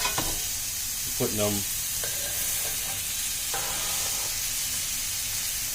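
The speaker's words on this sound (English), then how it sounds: "We're going to go ahead and hear that sear." Steady loud sizzle of seasoned burger patties searing in a hot pan, with a voice speaking briefly underneath the constant hiss.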